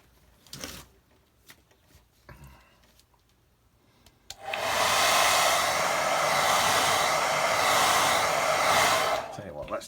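A hair dryer blows steadily and loudly onto a watercolour beach-scene painting, switching on after about four seconds of quiet handling noises and running for the rest of the clip.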